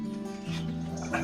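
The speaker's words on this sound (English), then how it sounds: "That's my dog come to say hi." A small dog whimpering and yipping close by at a garden where a guava tree is being pruned, brief soft whines over a steady tonal hum, with a person talking over it.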